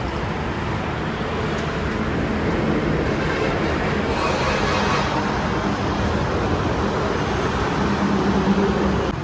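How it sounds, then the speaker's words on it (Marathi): Steady roar of fast-moving traffic on the Panvel highway, a continuous broadband wash of cars and heavier vehicles rushing past at moderate distance with no pauses. "गाड्या बघा कसले सुसाट चालल्यात."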